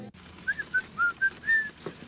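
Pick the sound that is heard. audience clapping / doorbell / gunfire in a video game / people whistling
people whistling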